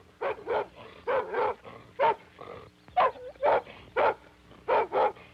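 Dog barking in an old 16mm educational film, a series of rhythmic, mid-distance woofs in pairs and singles with short pauses, no talk over them.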